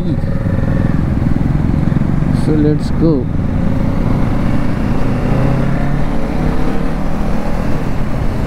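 Several motorcycles, including a Dominar 400, a Royal Enfield 650 GT and a Duke 390, ride along a road with a loud, steady engine drone and wind rush throughout, while someone says a few words over it.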